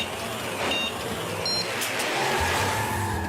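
A cartoon race car drives off at the start of an animated race. A steady, loud engine drone runs throughout, with brief tire squeals and whooshes near the middle.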